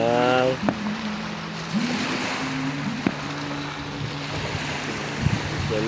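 Boats out on the sea off Naic, Cavite during a town fiesta, heard as a steady low engine drone with wind and surf noise, a few sharp knocks, and muffled voices.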